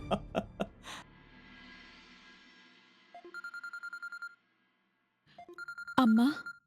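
A phone ringtone for an incoming call plays as repeated bursts of electronic tones in two groups separated by a pause, with short voice sounds at the start and a voice near the end.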